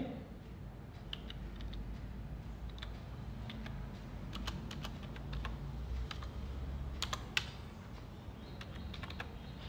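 Someone types a bank IFSC code on a computer keyboard for bank validation on an income tax portal, making quiet, irregular key clicks over a steady background hum.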